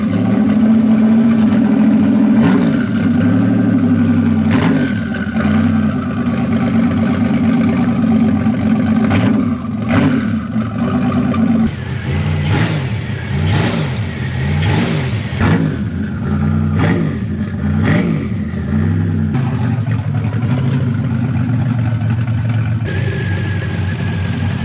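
A Buick Grand National engine idles with a deep, lumpy rumble, revved a few times in short bursts, close and loud.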